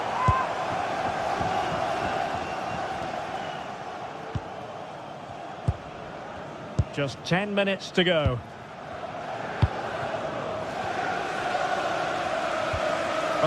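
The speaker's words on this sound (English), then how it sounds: "these Newcastle fans have been brilliant. Just listen to the noise" Newcastle supporters in a football video game keep up a steady crowd roar through the stadium, under a commentator's voice, with a brief louder burst of chanting near the middle.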